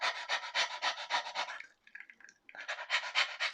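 A man imitates a dog's panting with rapid, rhythmic, breathy huffs close to the microphone, pausing briefly before resuming the quick pants.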